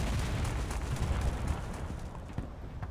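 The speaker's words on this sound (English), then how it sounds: "let's just clear them all out with grenades" Grenades blasting wooden barrels apart in the Civil War: Secret Missions game: a dense, loud rumble of overlapping booms and debris that tapers off toward the end, with no talking.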